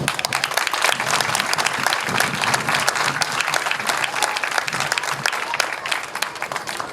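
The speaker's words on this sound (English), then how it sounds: "Please give them a round of applause." Loud, dense applause from a crowd at a JROTC opening ceremony, continuous clapping with scattered sharp claps for the whole stretch, no voices over it.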